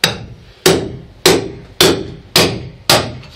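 Six sharp hammer strikes ring out at an even pace, each a crisp metallic impact with a short decay, loud and close, as wet floor fabric is torn out of a Catalina 25 sailboat hull.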